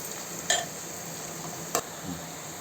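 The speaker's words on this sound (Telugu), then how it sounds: "ఇప్పుడు ఈ ఉల్లిపాయ పచ్చిమిరపకాయల్ని బాగా బ్రౌన్ కలర్ వచ్చే వరకు వేయించుకోవాలండి" Onions and green chillies frying in a pan for a raw prawn curry, with a steady close sizzle and two sharp spoon clinks against the pan.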